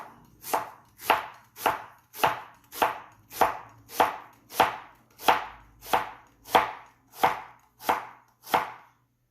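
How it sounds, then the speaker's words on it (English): A knife thinly slices an onion on a cutting board for a mushroom soup, making about fifteen crisp, evenly spaced chops in a steady rhythm, close and clear with no talking. "I'll begin with thinly slicing my onion."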